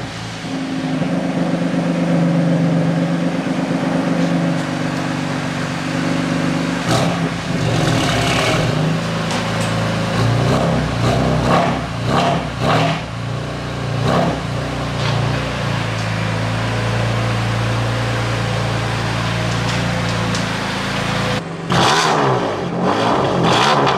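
A Seat Ibiza with a loud, rough engine starts up and revs hard again and again, the close, continuous roar climbing and falling in bursts with no talk over it.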